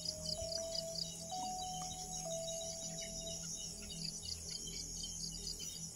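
Bird calls in a forest, a few high thin whistled notes over a constant shrill insect chorus and faint low background hum, fairly quiet and distant.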